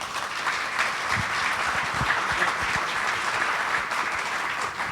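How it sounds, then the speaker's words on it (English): Sustained audience applause after a panel discussion on policy and justice, dense clapping at a steady moderate level with a few sharper individual claps standing out near the front. "well-deserved applause"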